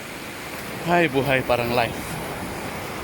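Surf rolling onto the seashore at Natangatang, Ballesteros in Cagayan de Oro, a steady wash of waves and wind running throughout beneath a brief burst of speech in the middle.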